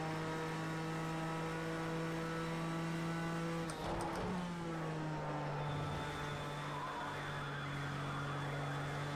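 A race car in Project CARS 2 drones along at a steady engine pitch, then dips briefly with a rough burst before settling back into a constant, close hum. No one talks.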